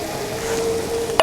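Eggs with green peas for a Moroccan omelet sizzle softly in a pan while being stirred, ending in one sharp clack of a utensil against the pan.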